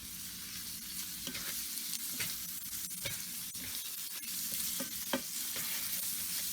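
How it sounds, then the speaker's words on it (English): Fajita beef stirred in a pot, a constant bright sizzle broken by repeated scraping strokes of a utensil at an uneven pace, close and with no voices. "And then stir it around."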